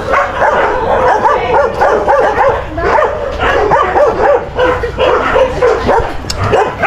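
Several dogs bark and yip over one another in a busy, continuous chorus close by, with a few whimpering notes mixed in.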